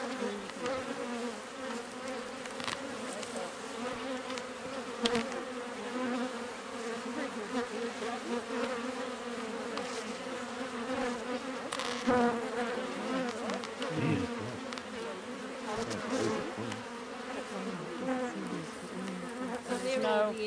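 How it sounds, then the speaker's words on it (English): Dense, continuous buzzing of many honeybees swarming close around a hive frame as they are knocked off, steady and loud throughout with no talk. "I'll just knock these bees off and bring it round to you"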